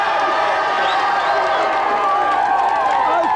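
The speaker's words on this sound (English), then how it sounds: "Give them a cheer" Studio audience at a televised video game show cheering and shouting continuously, a dense loud crowd roar with scattered whoops and possible clapping, no pauses.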